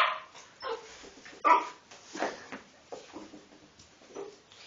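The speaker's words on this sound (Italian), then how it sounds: "È la prima volta che abbaia stasera" A dog barks several times in short, irregular bursts, fairly close, with quieter yips and whimpers between the barks against a hushed background.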